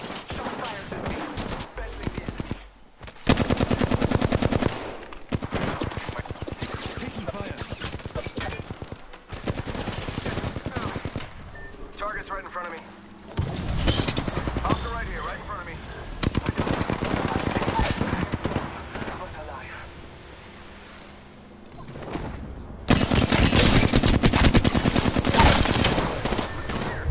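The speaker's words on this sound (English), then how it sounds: "Shots fired at me." Heavy automatic gunfire from the video game Apex Legends comes in loud, rapid bursts separated by quieter gaps, with players occasionally talking in between.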